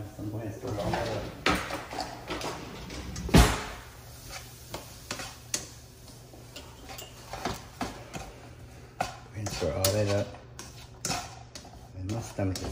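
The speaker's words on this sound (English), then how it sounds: "so I'm going to stir it all up" Beef seasoned with garlic pepper is stirred in a pan, giving scattered scraping clicks and knocks of the utensil against the pan, mostly under a person talking.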